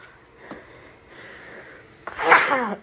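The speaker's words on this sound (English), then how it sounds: "I think that's the first time I've sneezed on camera in a long time. It was a big sneeze, too." A man lets out one big, loud sneeze at the end. A faint sniff and breathy noises come before it against a quiet room background.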